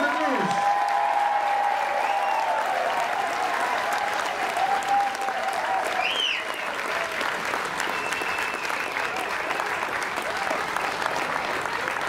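Sustained audience applause fills a dining room aboard an Alaska cruise ship, dense and steady for the whole stretch, with a voice talking over it at the start and a few brief whoops rising out of the clapping.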